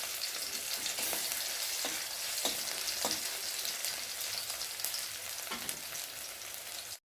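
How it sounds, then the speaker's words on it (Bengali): Chopped onion and garlic fry in hot oil in a pan, giving a continuous bright sizzle with occasional sharper pops and stirring, steady and close, with no speech. "পেঁয়াজের সাথে রসুনটা ভাজা ভাজা হয়ে যাবে"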